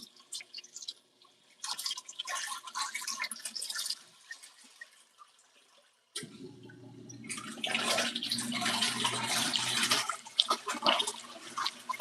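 Water sloshing and dripping inside an LG ThinQ MEGA Ultimate washing machine during its first rinse cycle, quiet trickles at first, then a louder steady rush of water filling in.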